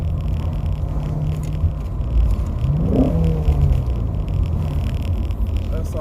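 Ford Mustang Shelby GT350 engine rising in pitch as it revs, then dropping and climbing again through gear changes, a steady loud rumble heard from inside the car with no talking.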